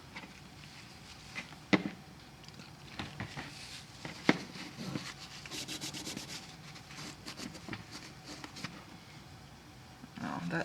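A small metal part is deburred in a workshop by hand with a soft, steady rubbing and scraping that runs throughout at low volume, broken by a few sharp clicks and taps.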